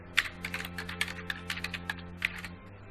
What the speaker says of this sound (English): we can simply click once in the search bar, type in our keywords